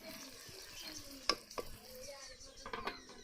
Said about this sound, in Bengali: এভাবে নেড়ে চেড়ে আমি মাংসটা রান্না করে নেব